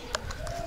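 Small birds, glossy and superb starlings, calling in an aviary at a bird park, with a couple of brief chirps over steady background ambience.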